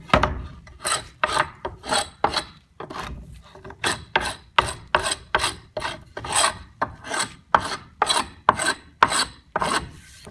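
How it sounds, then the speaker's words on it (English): Glue scraper rasping dried glue beads off a wooden door panel, a long series of rhythmic, close scraping strokes, each a short harsh rasp, repeated steadily with brief pauses and no talk. "take the glue scraper, scrape the beads of glue off it, both sides"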